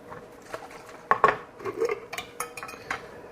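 Dry ground cumin is shaken into an Instant Pot Mini, giving soft pattering and light clinks of the container against metal. A few sharper knocks stand out near the middle, all fairly quiet with no talking.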